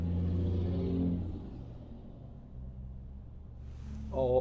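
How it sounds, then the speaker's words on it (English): Cars move through morning rush traffic in Llano, Texas, a steady engine rumble and passing hum close by, with one vehicle's tone falling away and a brief higher whine near the end. "Every car in the whole county is out."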